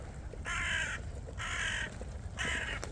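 A crow caws three times at a steady pace, each call harsh and fairly clear against a low background rumble.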